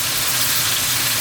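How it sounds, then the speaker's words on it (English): Ribeye steaks sizzle in a frying pan over medium heat, a close, dense and steady hiss with a low rumble that holds constant throughout. "now that I have my steaks down on the pan"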